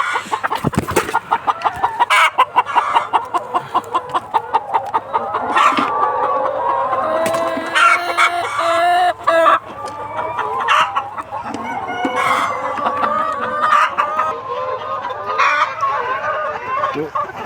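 Many laying hens clucking close by in a poultry shed, with repeated sharp calls early on and a busy chorus of clucks and crows filling the rest.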